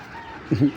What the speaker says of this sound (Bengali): রেসার সাইজের কবুতর, সিলভার জোড়া এটা